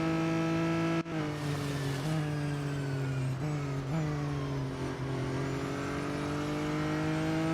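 A McLaren Artura GT4 racing engine in the Real Racing 3 video game drones loudly and steadily throughout, its pitch dipping and climbing with gear changes, with no talking.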